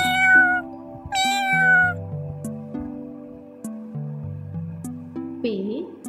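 A cat meows twice, clear and close, within a children's Urdu alphabet song where sung melody and music carry on underneath and around the calls.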